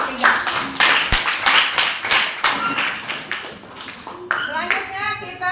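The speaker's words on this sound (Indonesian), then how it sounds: "Berikan sekali lagi tepuk tangan untuk kelompok 3." Classroom applause for a student group after their presentation, rhythmic hand clapping in several bursts with a teacher and children talking over and after it.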